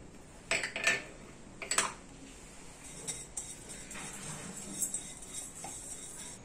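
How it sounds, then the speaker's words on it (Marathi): Black pepper and fennel seeds dry-roasting in a hot kadhai, with a few sharp metallic scrapes and clinks from a spatula early on over a faint continuous sizzle and hiss. "इथे मी एक कढई गरम करत ठेवलेली होती, तर त्याच्यात आपण हे भाजून घ्यायचं आहे."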